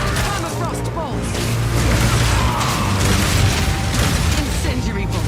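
Crossbow bolts fire and burst in Path of Exile 2, including permafrost and armor-piercing bolts, producing a loud, dense stream of rapid pops, booms and mechanical clatter with a voice speaking over them.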